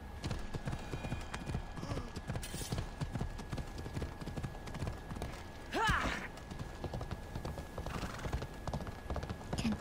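Horse hooves clip-clop steadily in Assassin's Creed Odyssey, a rhythmic trotting beat with a brief neigh midway, while someone talks over the gameplay.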